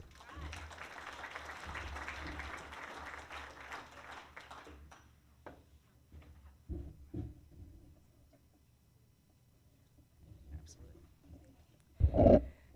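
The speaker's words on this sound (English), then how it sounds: "let's give them a round of applause" Applause from an audience at a community meeting fills the first few seconds, a dense patter of clapping that fades out into near silence with a few faint stray sounds.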